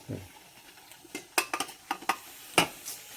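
A pot is set into a kitchen steamer, producing a handful of sharp metallic clanks and clinks, irregular and close, against an otherwise quiet background.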